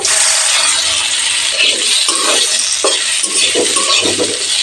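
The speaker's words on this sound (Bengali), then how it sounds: "মিডিয়াম হিটে আলু ভেজে নেব" Parboiled potato pieces, coated in salt and turmeric, fry over medium heat in mustard oil for Punjabi aloo methi, giving a loud, continuous sizzling hiss broken by intermittent clattering stirs and clinks.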